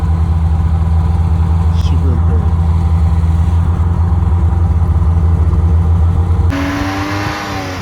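A snowmobile engine hums and revs at close range at the start of a ride, a strong low droning rumble that changes pitch near the end.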